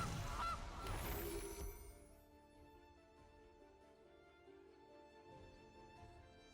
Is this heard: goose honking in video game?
yes